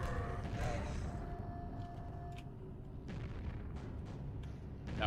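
Rockets firing and exploding in Quake's Dawn of the Machine expansion: a dense, continuous rumble of blasts with sharper bursts cutting through, loud and close, with no talking.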